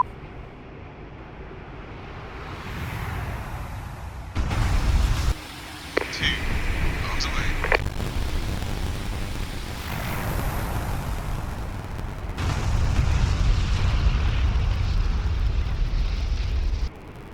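Bombs dropped from an A-4 jet explode on a runway in the DCS World flight simulator, rumbling low blasts over a steady loud jet engine drone, with a brief sharp burst partway through.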